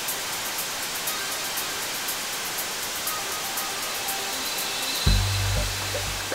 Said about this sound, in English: The moment the engine starts running, the air blown is shockingly intense.